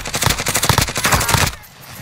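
Rapid bursts of automatic gunfire from a Call of Duty Warzone match, loud and close with dense repeated shots for about a second and a half before cutting to quieter game ambience.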